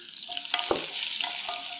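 Mustard seeds, lentils, ginger and dried chillies splutter in hot oil, giving a bright sizzling hiss broken by several sharp pops and crackles over a brief stretch.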